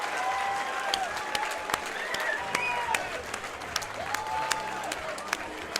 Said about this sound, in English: we're all over here clapping even at the broadcast table